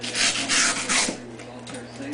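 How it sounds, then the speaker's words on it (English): Sanding a glued-in piece down to shape, with several brisk rasping strokes close up, strongest at first and then fading as the rubbing slows. "I can glue it in and then sand it down to shape"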